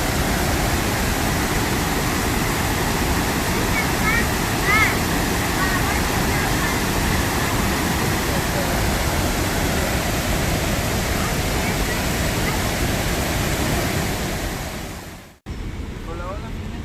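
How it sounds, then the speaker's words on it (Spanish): A waterfall and river rush in a park, seen from above the river, with a loud, unbroken roar of water that dips briefly and then resumes near the end. "aquí estamos ahorita mi gente viendo la parte de arriba de lo que es el río"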